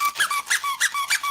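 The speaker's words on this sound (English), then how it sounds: "This, from what I can understand, is a dog toy." A squeaky dog toy is squeezed repeatedly, giving five quick, loud, close two-part squeaks in a steady rhythm with no talking.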